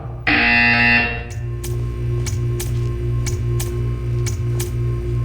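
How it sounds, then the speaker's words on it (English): Loud electronic buzzer from the video game Portal 2 blares for about a second, followed by a steady hum and a rhythmic series of sharp ticking clicks, no voices. "You will hear a buzzer."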